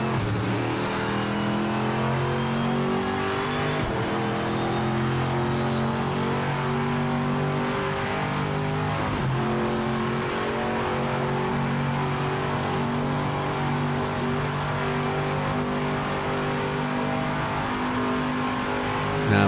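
A race car engine in the Project Motor Racing video game drones steadily and loud throughout, holding a sustained mid-pitched roar with slight rises in revs as the car warms its tyres, with no talking.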